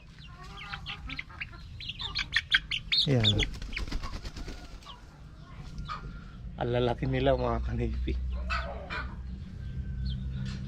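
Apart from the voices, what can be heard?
chickens clucking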